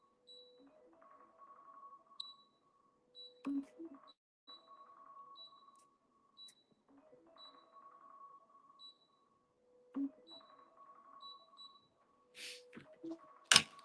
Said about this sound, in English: That's my alarm clock, niece.